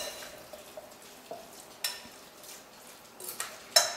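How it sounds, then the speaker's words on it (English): Ricotta being stirred into pancetta in a bowl for asparagus lasagna, soft scraping with a few sharp spoon clinks against the bowl, quiet and intermittent. "We're going to just stir that in."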